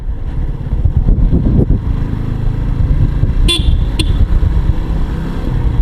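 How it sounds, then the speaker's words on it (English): Two short dual-horn honks in quick succession sound over the loud, rumbling engine of a Yamaha R15 V3 motorcycle running close by. "it had that dual horn"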